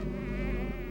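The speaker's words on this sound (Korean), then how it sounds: "불빛만 있으면 달려드는 모기떼 때문에 밤이면 주민들은 집안에 갇혀 지내기 일쑤다." A dense swarm of mosquitoes buzzing at night in a rural village, drawn to lights, a steady close whining drone with wavering pitch filling the whole short moment.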